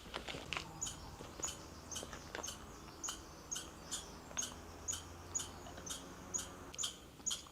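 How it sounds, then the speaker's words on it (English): A chipmunk on a forest trail in Prince Rupert gives a steady series of sharp, high chips at a regular rhythm, about two per second, fairly faint and distant, with light rustling in the background. "You hear the chipmunk?"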